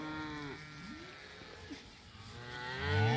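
Cows grazing in tall grass give several mooing calls, a drawn-out low at the start, softer calls through the middle, and a louder, closer moo rising at the end.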